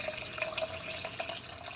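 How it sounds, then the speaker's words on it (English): Apple cider vinegar trickles and splashes into a glass jar for a ginger tincture, a soft close pour with small bubbling drips, quiet and without talk. "So we're just adding the apple cider vinegar here."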